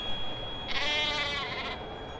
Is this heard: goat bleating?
yes